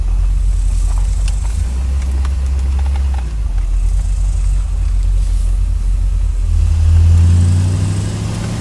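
A 1977 C3 Corvette accelerating hard, its deep engine note loud and close, climbing through the gears with a brief dip between shifts before surging again near the end.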